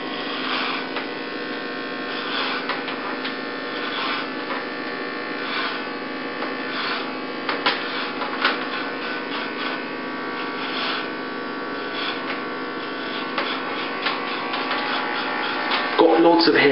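Steady buzzing of an electric shaver running close by on neck hair while shaving a head, with someone talking over it throughout.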